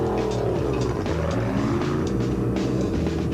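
A rally race car from the special vehicles class at the Tarkastad 400 leaves the start, its engine roaring loud and close with rising, shifting revs over a few seconds, and no talk.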